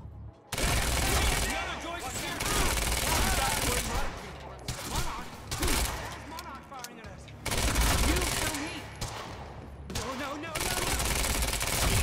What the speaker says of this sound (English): You heard the gunfire. Something's gone wrong.